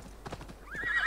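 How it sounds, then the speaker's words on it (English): Horse in Assassin's Creed Valhalla near a castle siege: hooves clip-clop in a steady galloping rhythm, then a loud rising whinny closes the short passage, close and alone with no talk. "I guess we'll jump off our horse there."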